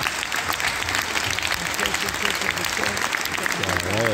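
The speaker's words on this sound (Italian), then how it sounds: "un applauso, pezzo finale e al nostro governatore pure Maria" A school concert audience gives sustained, dense applause, steady clapping filling the hall from start to finish while a voice speaks over it and a few crowd voices rise toward the end.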